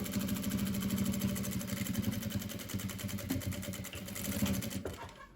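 A sewing machine runs a straight seam in fabric, with a fast, even mechanical rattle of stitching that goes on close up and cuts off abruptly at the end.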